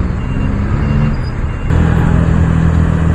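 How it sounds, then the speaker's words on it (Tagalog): Heavy road traffic on a congested multi-lane street gives a loud, constant engine rumble and roadway hiss that swells slightly partway through, with no talking. "Traffic talaga dito"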